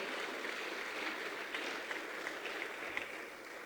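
A church congregation claps in a steady, fairly faint and distant patter of many hands, with a few sharper claps standing out near the end.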